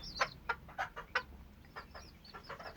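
Quail chicks give a quick series of sharp, high peeping chirps, close and fairly loud at first, then softer ones follow.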